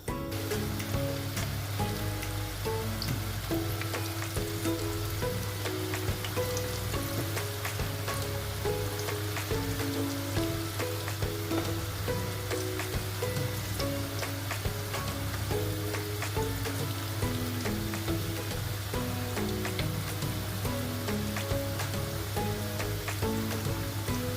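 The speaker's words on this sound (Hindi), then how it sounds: "अब हम इसको जल्दी से फ्राई करना शुरू करते हैं।" Potato fritters sizzle and crackle steadily in hot oil, a continuous close frying hiss over a low background hum, with no talking.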